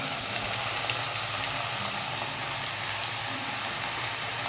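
Banana flower sautéing in a pan with onion and curry leaves over a low flame, giving a steady, close, even sizzle and hiss throughout, with no voices.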